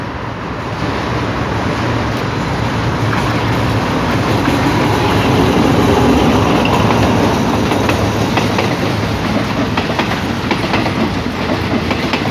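Thai ordinary passenger train 208, running from Nakhon Sawan to Bangkok, passes close by with a loud, steady roar of wheels and rolling stock and continuous rhythmic clatter throughout.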